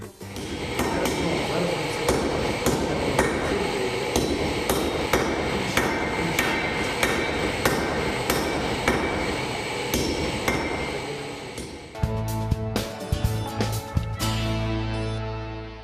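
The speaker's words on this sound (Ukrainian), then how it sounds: "Також допомога механічного молота й доречна" A mechanical forging hammer in a blacksmith shop pounds metal in rapid, steady repeated strikes, loud and close, then shifts to slower, heavier blows with ringing metal near the end.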